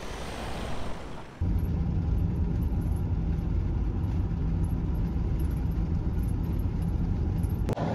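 Interior road noise of a heavily loaded Ford Transit camper conversion driving, a steady low engine and tyre rumble after a brief shift at the start, with a faint sharp knock near the end.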